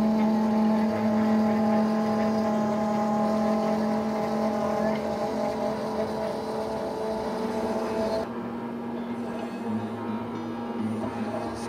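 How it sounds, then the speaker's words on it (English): A CNC router cuts plywood with a loud, steady whine carrying a sustained tonal pitch, which drops abruptly to a lower, quieter hum partway through, with faint background speech. "So we're going to load this into Mach and cut it out on the CNC."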